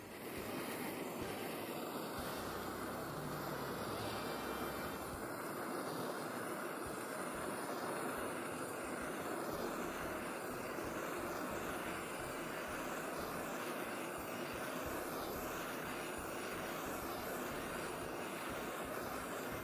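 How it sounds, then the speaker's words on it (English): A torch flame roars steadily and without a break across wooden flag strips outdoors, moderately loud and alone, with no talking. "When you do torch your strips and your union, make sure you do it obviously in a ventilated area"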